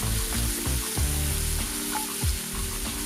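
Rinsed and drained canned jackfruit sizzles and fries steadily in a hot pan, with a few stirring scrapes and clacks of a utensil near the mic, no talking.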